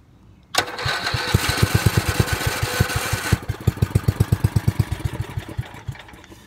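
A Manco ATC three-wheeler engine cranks and catches, running roughly at high revs for a few seconds, then drops to a loud, uneven idle with distinct chugging pulses close to the microphone.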